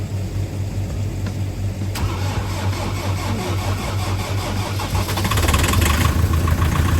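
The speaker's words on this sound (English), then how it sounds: "we're gonna go for trying to start the Defender in -20" A Land Rover Defender in -20 degree cold cranks with a steady low whirring rhythm for several seconds, then catches and fires, the engine note swelling louder near the end, close and without talk.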